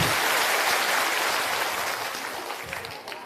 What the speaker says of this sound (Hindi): अब एक बार प्रशांत किशोर जी के लिए जोरदार ताली से उनका स्वागत कीजिए।